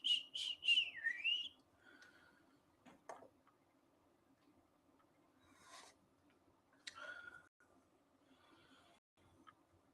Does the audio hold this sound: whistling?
yes